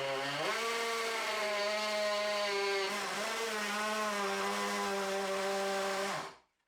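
A Bosch GSR12V-300FC 12V drill/driver runs steadily close-up, its motor whine rising in pitch as the screw drives in and strains under pressure, then cutting off abruptly after about six seconds.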